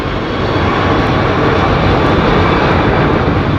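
A Virgin Airbus A350 freighter at London Heathrow Airport makes a loud, steady, broadband jet roar that fills the short stretch without pause or talk.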